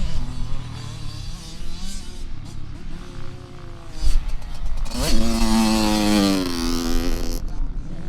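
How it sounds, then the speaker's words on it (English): A motorcycle on a race track revs under throttle, its engine note rising and falling with a loud, close buzzing drone that surges sharply near the end while climbing a steep uphill in third gear. "I just want you to listen to how much throttle I'm giving it."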